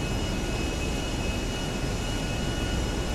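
A military jet flies in Grand Theft Auto V, with a steady, loud broadband engine roar holding constant and nobody speaking.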